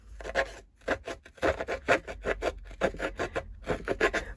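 Harsh rasping scrapes of a tool rubbed repeatedly along a paper edge to distress it, in quick uneven bursts with brief pauses, close and fairly loud.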